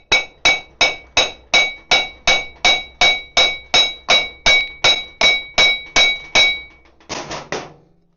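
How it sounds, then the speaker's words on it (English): A hammer taps on a Triumph motorcycle part with about sixteen evenly spaced, sharp metallic strikes that ring briefly. A short pause follows, then a quick, softer cluster of three blows. "I was going to tap it with a hammer at the back."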